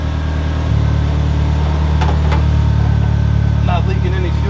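A 1991 Eagle Talon engine, just fitted with a new Deatschwerks fuel pump, idles with a steady, loud, low hum close up, with faint brief sounds over it.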